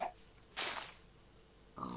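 A pig in the Minecraft video game gives short, soft grunts, a few spaced apart, fairly quiet and close, with no talk over them.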